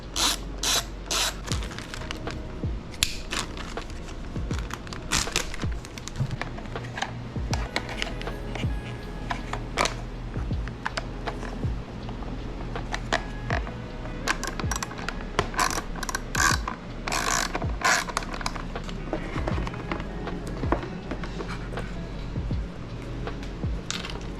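A hand ratchet clicks steadily while bolts are driven back into Honda CBR1000RR motorcycle parts during reassembly; dense, close, rapid mechanical clicking runs throughout with no talking.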